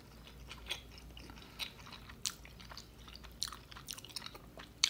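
Close, quiet chewing and soft crunching bites of a Chipotle burrito, irregular wet mouth sounds with occasional sharper crunches and no talking.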